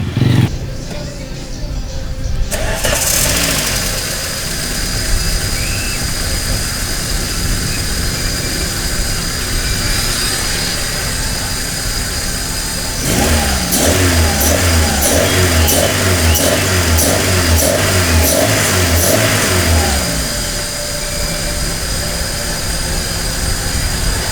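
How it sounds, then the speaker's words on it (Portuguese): A Volkswagen Santana's engine cranks and starts in a home garage after spark plug work, then idles and is revved in a series of loud rising and falling bursts before settling back to a steady idle. "Agora, vamos dar uma partida para ver como é que ficou."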